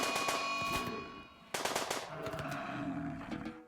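Gunfire in the RimWorld video game rattles in fast machine-gun bursts aimed at a yak, two loud volleys separated by a short pause, alongside a low animal grunt.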